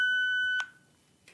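A pure high-pitched test tone from a hearing test, held steady for about half a second and then cut off by a short burst of noise, with another faint burst near the end, heard alone without talk.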